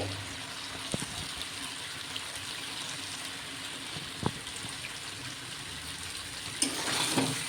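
Potatoes and salt go into a pan of frying yogurt chicken curry, giving a steady, fairly quiet sizzle with a few sharp knocks from the ingredients and stirring.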